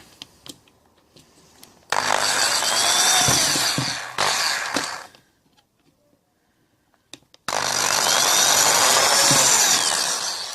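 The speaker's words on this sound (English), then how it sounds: "let's just drill through there." A power drill bores two holes through a Trackmaster Percy toy train's plastic body, fitting an LED buffer mod: two loud, sustained whining bursts with a faint rising pitch, separated by a pause of quiet handling and small clicks.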